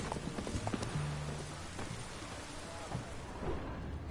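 Geralt's horse Roach from The Witcher 3 trots with soft, steady clip-clop hoofbeats, low in the mix beneath a busy game soundscape and faint background voices.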